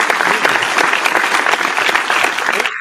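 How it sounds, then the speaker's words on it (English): Steady, dense applause from an audience at a live talk show, loud and continuous for nearly three seconds before cutting off abruptly. "Big round of applause."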